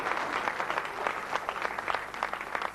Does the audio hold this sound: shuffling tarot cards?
no